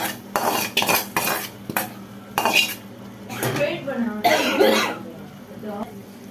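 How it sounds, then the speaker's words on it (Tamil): A spoon clatters and scrapes against a pan as sautéed capsicum is tipped into onion-tomato gravy, in loud, close, irregular bursts mixed with a cough, throat clearing and a voice. "இப்போ நம்ம வதக்கி வச்சிருந்த கேப்சிகத்தை எடுத்து இதில் போட்டுடலாம்."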